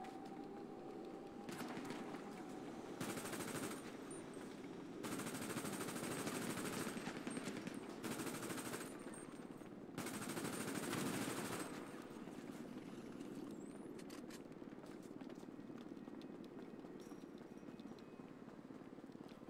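Gunfire in the video game GTA 5, several bursts of rapid automatic shots in separate strings, fairly distant and moderately loud over a low background hum, with no talk.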